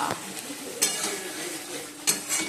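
Curry masala for a fish dish being stirred and sautéed in a pan, a close sizzle with a couple of sharp metallic clinks as the spoon strikes the pan.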